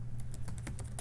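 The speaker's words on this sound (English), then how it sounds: "type in my email address" Rapid typing on a computer keyboard, with a quick run of distinct clicking keystrokes, close and fairly quiet, heard alone.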